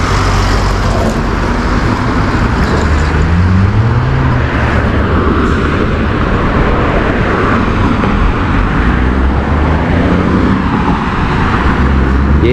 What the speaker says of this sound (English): Yeah, there's so many trucks on Slobodný Highway